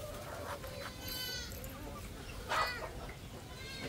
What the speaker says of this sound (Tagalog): Ang ating kambing nandoon guys